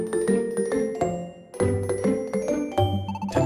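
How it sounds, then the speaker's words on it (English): A chiming school bell from Pokémon Super Mystery Dungeon rings as a repeating sequence of bright, sustained tones, loud and up front, with no voices. "All right, class, that's the bell."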